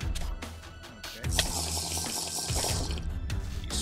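Water splashing in Minecraft, a steady close rush of flowing liquid with brief bursts and a faint voice underneath.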